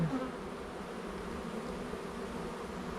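Honeybees at a hive in a marsh by the Saône, a steady, dense, low buzz of many insects close by, unbroken and without voices.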